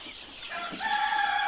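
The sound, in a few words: Sonali chickens clucking and crowing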